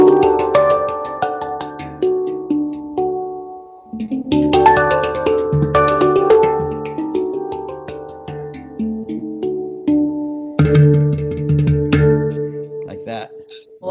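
Hang-style handpan from Israel tuned to the Hijaz scale, ringing struck metallic tones played in rhythmic clusters with sustained resonant overtones, loud and close, with no talking over it.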